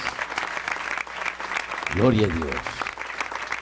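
A congregation applauds during an evangelical church service, a burst of clapping swelling for about a second beneath a preacher's loud, continuous speech.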